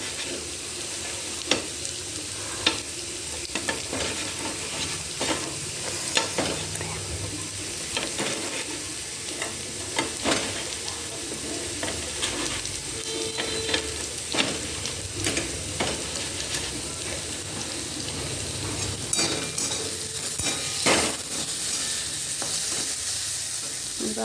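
Potatoes and onions fry in melted butter on a flat tawa, giving a steady, close sizzle throughout with frequent scraping and stirring clicks of a spatula against the pan.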